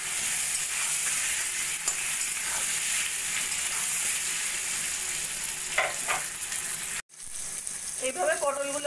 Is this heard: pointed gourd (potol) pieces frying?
yes